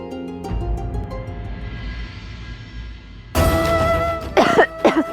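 A woman gives a light cough in a devotional TV drama scene, a short throat-clearing cough heard close, then a brief burst of music with chimes.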